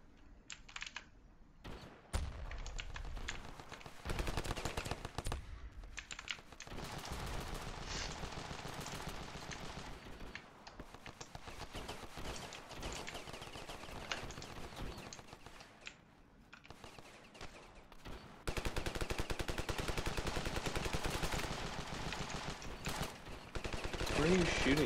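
Rapid gunfire bursts crackle through a Battlefield-style video game battle, dense and continuous with brief lulls, under a player's intermittent voice chat.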